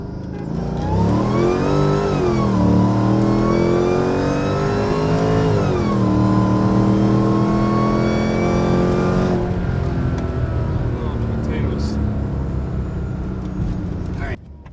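A boosted Mercedes E55 on drag radials roars through a hard full-throttle pull, its engine note climbing steadily with a brief shift dip, loud and close from inside the car, before easing off toward the end.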